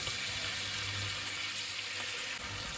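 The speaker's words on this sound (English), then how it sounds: "that's all the steak strips in the pan with the oil and the butter. I'm just gonna fry these off" Steak strips fry in oil and butter in a big pan, a steady, even sizzle and crackle that holds constant, close and fairly quiet, with no talking.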